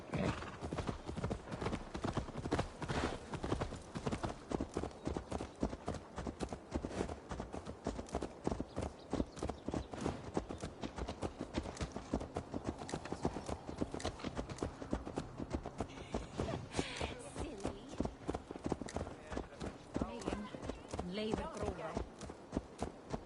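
Horse hooves clip-clop steadily in Assassin's Creed Valhalla, a fast, even, close-up drumming of hoofbeats that runs without a break, with occasional snorts and voices mixed underneath.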